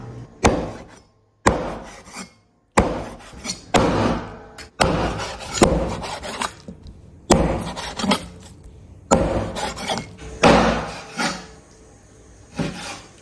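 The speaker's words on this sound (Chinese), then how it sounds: "先把鸡肉剁在桌上" A cleaver hacks through fresh chicken on a table, about ten loud, sharp chops in an uneven rhythm, each one ringing briefly against the wood before the next strike.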